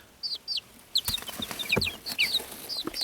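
Baby chicks being raised off grid give repeated high, bright chirps and peeps in short bursts, some overlapping, close by with light rustling and no talk.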